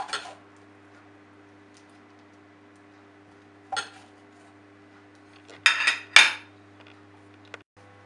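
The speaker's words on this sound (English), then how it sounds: "Just scoop out all the seeds" A utensil scooping seeds out of a squash, producing a few sparse scraping and clinking scrapes, isolated and close, with quiet pauses between them and two quick strokes near the end.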